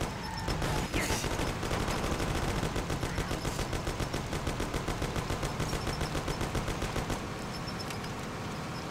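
Sustained rapid-fire bursts from a Thompson submachine gun in the game Mafia, a fast, evenly spaced rattle of shots running for several seconds before cutting off, fairly loud with no talking.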